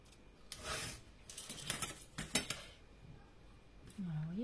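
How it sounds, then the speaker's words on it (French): Paper being cut with scissors for a handmade envelope mini album, a few quiet snips and small metallic clicks of the blades, close and soft with faint talk. "Et je viens arrondir encore avec le bout de mon ciseau."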